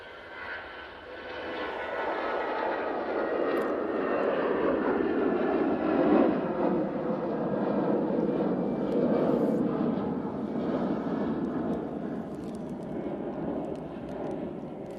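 An EasyJet airliner in Austria livery rolls down the Manchester Airport runway for takeoff, a low, rumbling engine roar that swells after the first second and then holds, heard from a distance.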